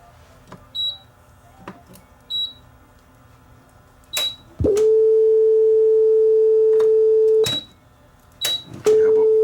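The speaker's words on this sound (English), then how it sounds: "buzzer on and off." A few mechanical clicks, then a steady electronic buzzer tone from an Aurex (Toshiba) PCG8AD cassette deck sounds for about three seconds, stops with a click, and starts again.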